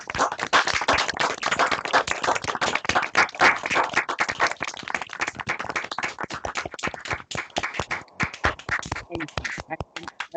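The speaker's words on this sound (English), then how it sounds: "please give a big round of applause to Tim and Yewande." Online event audience unmuted to clap: many separate, uneven hand claps from different microphones, loud and sharp, thinning toward the end.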